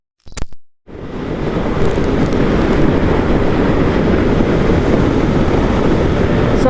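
A Suzuki GSX-8R motorcycle cruises through town with a loud, steady low engine rumble mixed with heavy wind rush after a brief knock at the start.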